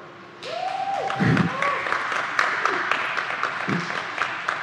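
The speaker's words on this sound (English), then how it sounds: "the fact that we applaud for that" An audience breaks into applause at a talk, a steady wash of clapping that swells and continues while a voice speaks and laughs over it.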